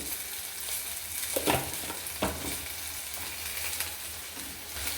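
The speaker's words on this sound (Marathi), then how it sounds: "आता आपण मिरच्या फ्राय करून घेणार आहोत" Green chillies fry in a pan with salt for a tomato-green chilli chutney, a continuous moderate sizzle with a couple of sharper stirring clacks near the middle.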